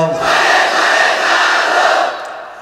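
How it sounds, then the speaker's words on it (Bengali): A large crowd at a Bangla Islamic religious sermon roars a takbir in unison, one loud sustained shout of many voices lasting about two seconds before fading. "দেন তাকবীর সবাই মিলে"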